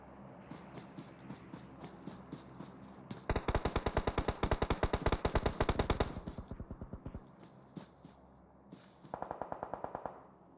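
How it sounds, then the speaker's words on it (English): Video game gunfire in a competitive pro scrim match, with scattered distant shots giving way to a loud, rapid burst of automatic fire, then trailing single shots and another short volley. "There is some shots fired"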